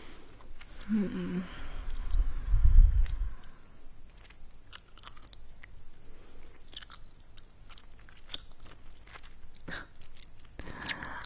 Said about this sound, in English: I'm thinking about Free Dent because that's the brand of gum I'm chewing right now.